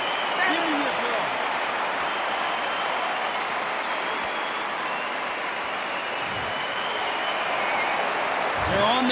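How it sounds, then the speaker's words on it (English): Steady crowd applause in a boxing video game, a dense wash of clapping that holds for several seconds, with brief bits of voice over it. "Give me your applause."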